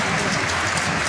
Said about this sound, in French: Il est largement applaudi par le public.